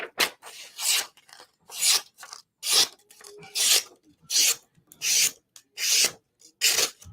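A freshly sharpened Benchmade 940 or Para 3 knife makes repeated rasping slicing strokes through material, about ten quick cuts in a steady rhythm with short pauses between, close and clear.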